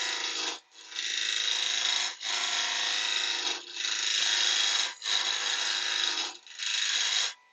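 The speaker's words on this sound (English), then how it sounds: "the vibration of the tool cutting on the wood" A wood lathe tool cuts into a spinning bowl blank in five long, steady scraping passes, each broken by a short pause, with no talking.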